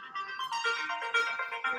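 A mobile phone ringtone plays a bright, tonal electronic melody of quick repeated notes, clear and close in a quiet room with nothing else over it.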